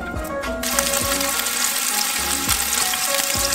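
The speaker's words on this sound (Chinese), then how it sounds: "把鱼丸炸至金黄" Fish balls deep-frying in hot oil with ginger, a loud continuous hiss and crackle of bubbling fat, close up, with a few soft knocks underneath and no voices.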